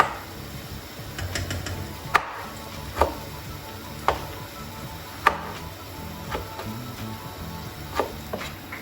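A knife dices tomatoes into cubes on a board, giving about a dozen sharp, irregularly spaced chops at close range in a quiet kitchen, with no talking.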